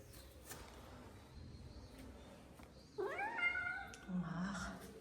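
A house cat gives one drawn-out meow, fairly close and clear, followed by a lower, shorter call, set against quiet indoor room noise with faint movement sounds beforehand.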